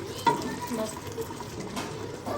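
Meat sautéing in a pot sizzles and crackles close up as cooking oil is poured in, with a sharp spatter near the start and a few clinks of a utensil against the pot.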